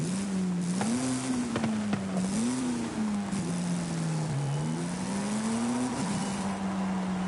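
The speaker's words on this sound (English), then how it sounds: "this engine was made in 1926, and it's got a supercharger" Supercharged 1926 car engine in Forza Horizon 5 drones steadily throughout, its pitch rising and falling through gear changes and revs, loud and continuous with no talk.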